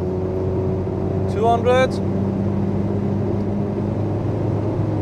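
A Mercedes-AMG SL43 accelerates hard on the Autobahn, with a steady engine drone and road roar beneath a brief spoken number.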